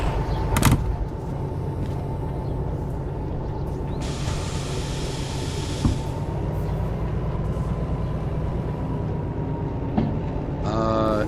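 Train cars couple in the VR game Derail Valley, heard against a steady rumbling engine drone, with a sharp clank near the start, a hissing burst in the middle and a few lighter knocks later.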